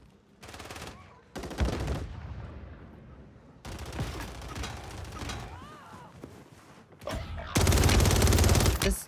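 Bursts of video game gunfire from a sniper crack in separated volleys, loud and close, with a heavier sustained burst toward the end and scattered game noise between shots.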